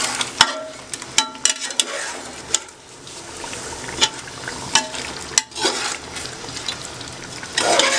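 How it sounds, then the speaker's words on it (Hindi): Meat cooked with coriander powder and garam masala in a pot for Sindhi biryani, sizzling loudly while a spoon stirs with sharp scrapes and clanks, near and without speech. "इसे अच्छे से मिक्स करेंगे, मसालों के साथ गोश्त को पकाएंगे।"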